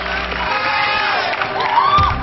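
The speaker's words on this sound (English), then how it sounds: "he's got a cheering section" A studio audience's cheering section roots for a quiz contestant on a game show, a loud, sustained crowd roar of shouts and whoops that carries through the whole stretch.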